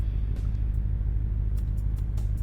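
A 1956 Ford F100 engine in the Car Mechanic Simulator game, running with a steady, loud, low rumble throughout and no voices.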